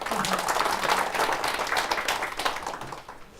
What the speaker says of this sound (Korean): 동의하시면 박수.